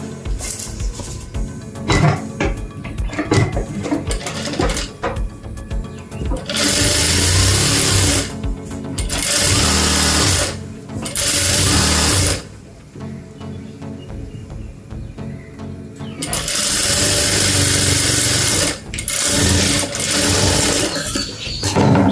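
Sewing machine stitching palazzo pants, running in several long bursts of steady whirring separated by short pauses, close and loud with no talking.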